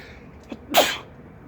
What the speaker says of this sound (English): And it's really bright, hence the sneezing.